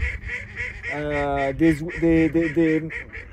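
Loud honking waterfowl calls repeat in long, drawn-out bursts, several overlapping close by, like geese or duck calls sounding one after another.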